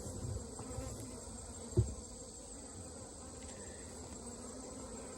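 Honey bees hum during a hive inspection, a faint, steady buzz that runs throughout, broken by a single soft knock or handling bump.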